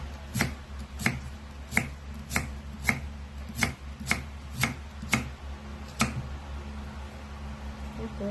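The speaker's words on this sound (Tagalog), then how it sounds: "Ito naman ang singkamas. Ito ang medyo matigas siyang hiwain." A knife chops through firm jicama (singkamas) on a board in about a dozen crisp, evenly spaced cuts, close-up and moderately quiet, with no one speaking.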